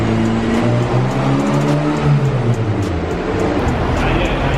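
A freshly rebuilt Honda B18C1 GSR engine revs on a dyno, a loud sustained engine drone with pitch that rises and falls as the revs change, continuous through the whole stretch and close by.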